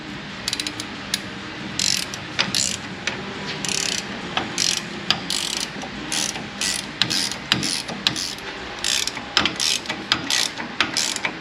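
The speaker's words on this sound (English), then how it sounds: "when I tighten down this bolt right here, it's going to act on the business end of this puller" Rapid ratchet clicks in repeated bursts as a bolt is tightened on a pitman arm puller pressing a stud through a Jeep Wrangler YJ's pitman arm, close and fairly loud, with short pauses between strokes.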